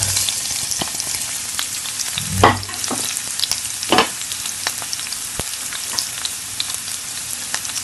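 Garlic, onion and ginger being sautéed for binagoongang pusit: a loud, close sizzle with scraping stirs and a few sharper clatters of the utensil against the pan, with no voices.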